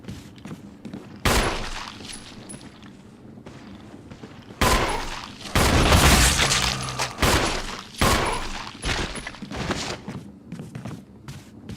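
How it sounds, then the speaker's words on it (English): Gunfire and a flash grenade blast in the Resident Evil survival horror game, with heavy bursts of shots and a loud detonation, several separate volleys through the middle, thuds between them. "How do you like that flash grenade?"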